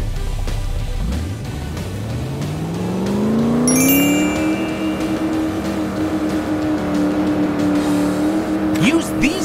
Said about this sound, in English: By holding this button, you'll start accelerating.